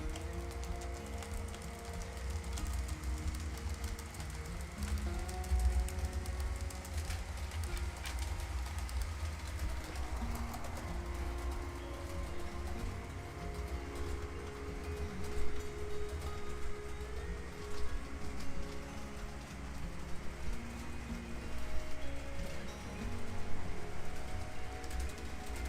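An HO scale model train runs on a home layout, giving a low, continuous rolling rumble at a modest level, with bird-like cooing sounds mixed in and no talking.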